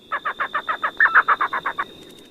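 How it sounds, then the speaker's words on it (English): Pair of elf owls calling at night: a fast series of about a dozen high, yelping notes that swell and fade, loud and near against a faint background. "And that was an elf-owl pair."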